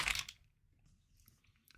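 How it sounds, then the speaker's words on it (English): A hard, crunchy spring roll snack bitten into once, a sharp crunch at the start followed by quieter faint chewing crackles in a quiet room. "Yeah, spring rolls are not supposed to be hard and crunchy."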